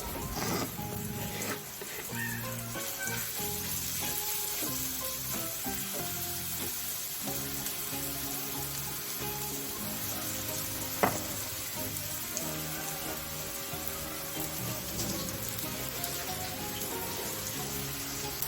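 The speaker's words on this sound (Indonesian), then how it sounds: "kita panasin dulu ya untuk bumbunya itu, kita tumis dulu sebentar" Spice paste sautéing in a hot pan at home, a steady close sizzle with occasional stirring scrapes and a clack, continuous throughout.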